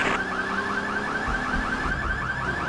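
A minivan's car alarm blares in Grand Theft Auto 3, a loud, rapidly warbling electronic siren repeating steadily and close by throughout.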